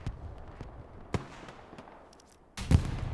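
Explosions from a bomber run in the World War II shooter Hell Let Loose, a few scattered, fairly distant booms and cracks, then a louder, closer blast near the end.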